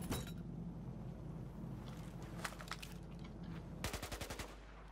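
A machine gun fires in Battlefield 4, delivering rapid bursts of close, loud shots along with some metallic clinks, and it ends in a fast, evenly spaced volley.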